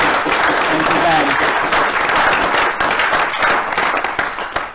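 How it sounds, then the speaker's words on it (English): Audience applause for an organiser at an in-person question time event, a steady dense round of clapping filling the room, loud and sustained before tapering near the end, with a voice faintly mixed in. "can we have another round of applause to Ben Mellor over here for his help in organising this?"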